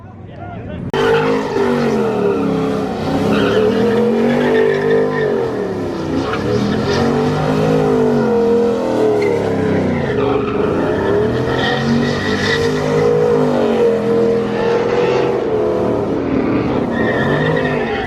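Nissan GTR engine revving hard in a rev battle, a loud sustained roar with rising and falling pitch sweeps, close and continuous, with voices shouting over it.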